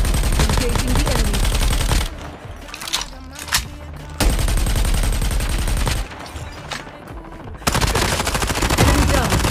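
Call of Duty Mobile gunfire, with loud, rapid machine-gun bursts that come in long stretches broken by brief quieter gaps carrying faint game sounds.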